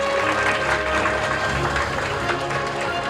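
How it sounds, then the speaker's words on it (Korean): Steady, dense applause from an audience in a hall at a Korean Rare Disease Day anniversary awards ceremony, a continuous wash of many hands clapping without a break. "동일하게 박수 한번 부탁드리겠습니다"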